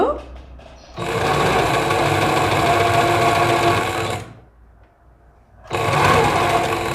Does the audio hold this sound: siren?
no